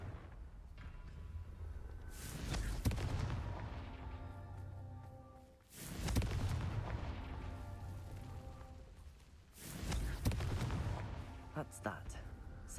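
Confringo blast spells in the video game Hogwarts Legacy set off three heavy booming explosions, each a loud burst that trails into a long rumbling decay, evenly spaced a few seconds apart.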